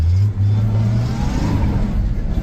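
A Ford 300 inline-six in an old truck with a 4-speed revs up, a loud, steady low engine drone with a brief dip early on and a rising pitch, heard up close and alone.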